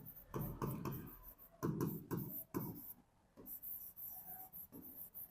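Chalk or marker writing on a classroom board, a series of close rubbing and scraping strokes in short bursts separated by brief pauses, with no talk.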